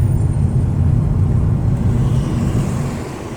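Interior of a Mk5 VW Golf on a road test drive after a power steering repair, a steady low engine and road rumble that fades slightly toward the end.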